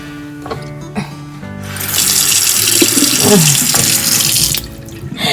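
A tap gushes loudly and steadily as a small child washes hands under the running water, with softer household noises before the flow starts and after it stops.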